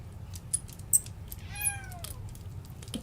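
A cat gives a single clear, rising-then-falling meow, close and moderately loud, over a quiet indoor background with a few soft clicks and taps.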